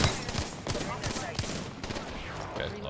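Rapid gunfire crackles in Apex Legends, dense overlapping shots and bursts that fire continuously at close to mid range.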